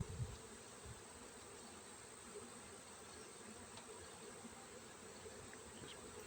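Bees buzzing steadily around a propane access cover during a removal, a dense continuous droning hum close by with faint handling noise and no talking.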